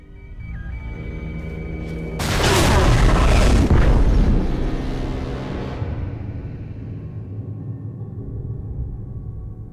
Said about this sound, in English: Detonate the tunnel!